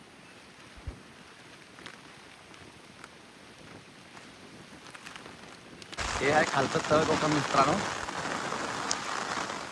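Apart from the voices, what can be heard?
heavy rain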